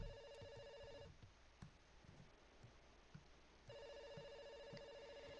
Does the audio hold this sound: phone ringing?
yes